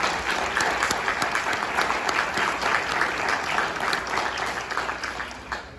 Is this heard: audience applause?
yes